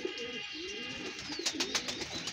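Pigeons and their young squabs cooing at a loft, soft low coos repeating steadily with a few higher chirps and faint background hiss.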